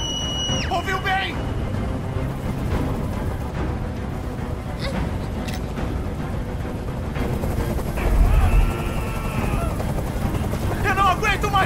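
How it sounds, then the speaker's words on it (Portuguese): Helicopter in the video game Detroit: Become Human, a steady loud rotor and engine drone filling the scene throughout, with game sound effects and voices layered on top. "Esse helicóptero tem que sair daqui agora!"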